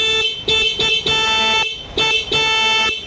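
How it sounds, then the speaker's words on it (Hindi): A scooter horn blares in a series of short and longer honks, loud and close, with brief gaps between them. "इसका देखिए हॉर्न भी बजने लग गया है"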